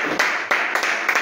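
A church congregation claps together in acclamation during a worship service, the broadband claps arriving in loose bursts at close range with no talk over them.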